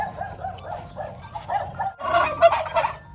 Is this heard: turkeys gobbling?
yes